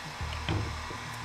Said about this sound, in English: with a heat gun or a hair dryer, you get ready to actually warm up the Kydex.